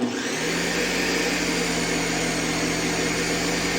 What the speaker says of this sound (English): we're gonna go ahead and puree that as well